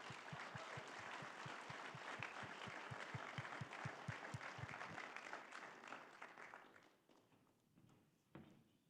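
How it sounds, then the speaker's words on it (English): Audience applause for school district students at a State of the District event, dense steady clapping from a large room that fades out over several seconds, with a few rhythmic footsteps heard early on. "How about a round of applause for our students?"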